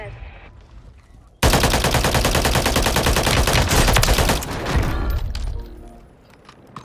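Rapid automatic gunfire in an online shooter game, a loud sustained burst of close shots lasting several seconds that then tapers off into quieter trailing shots.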